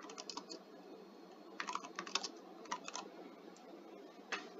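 Fingers typing a comment on a computer keyboard, faint close clicks in uneven bursts with short pauses between runs of keystrokes.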